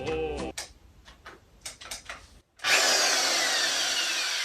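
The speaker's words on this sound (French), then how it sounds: "il n'y a plus qu'à percer le mur" Power drill boring into the wall of an 1850 tower under renovation, with scattered scraping and tapping handling noises and then a loud, steady whirring drill run.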